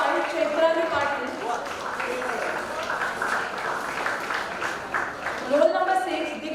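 Students clap steadily through a convocation ceremony, a continuous wash of applause with no breaks that swells slightly near the end, while names are read out over it.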